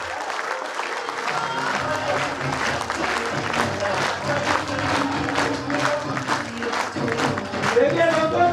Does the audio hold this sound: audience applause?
yes